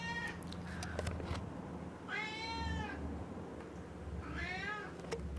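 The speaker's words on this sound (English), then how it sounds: "John, he's making her meow." A pet cat meowing indoors, two drawn-out, rising-and-falling meows a couple of seconds apart, fairly close and clear over a quiet room hum.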